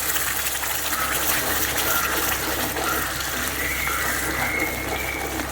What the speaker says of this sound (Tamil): இப்போ அரைச்சி வச்சுட்டதை இதில் ஊற்றிடலாம்.